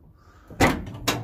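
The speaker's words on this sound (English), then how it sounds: "Open up this other side door." A cargo van's side door, on a van set up for painters, opens with two sharp metallic clunks close by, one at the latch and a second as the door swings and catches, after a short quiet pause.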